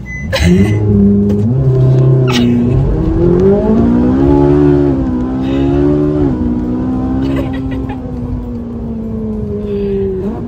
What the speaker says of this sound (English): There was a little bit of skidding, a little bit of back wheel trying to get traction